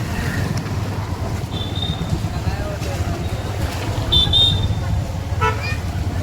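Busy highway traffic after heavy rain, with a steady low rumble of passing vehicles and several short horn toots rising above it, one at the start and a pair near the end, with faint voices underneath.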